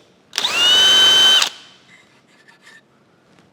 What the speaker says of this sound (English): I'm going to take a countersink now and just kind of lightly hit each of these and open that hole up just a little bit